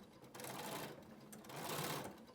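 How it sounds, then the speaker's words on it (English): A domestic sewing machine runs in two steady bursts with a brief pause between them, close and fairly loud, while stitching down a fabric face mask with its tie sewn in. "I'm gonna sew that down with the tie already in there"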